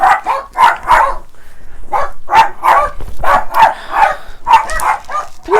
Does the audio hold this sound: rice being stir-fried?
no